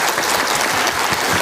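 Dense, steady audience applause fills a meeting hall at a Cho Kuk Innovation Party gathering with South Gyeongnam members, welcoming a participant from Tongyeong; loud and continuous with no voices over it.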